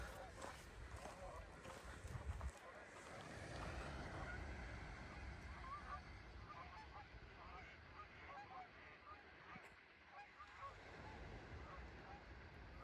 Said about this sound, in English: There go the birds.